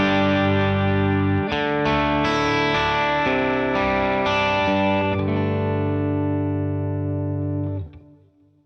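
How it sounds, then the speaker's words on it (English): An electric guitar through a Blue Guitar Amp 1, its front end driven with the volume between 7 and 8 and the master near 5, rings out sustained, harmonically rich chords that change every second or so and fade at the end. "What I want to do with this amp is to drive the front end a bit."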